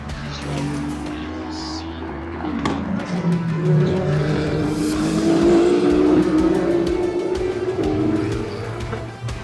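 Race cars at the Le Mans 24 Hours power out of the corners near Indianapolis, a loud, continuous engine roar whose pitch sweeps and climbs as each car accelerates away, with overlapping passes and no pause.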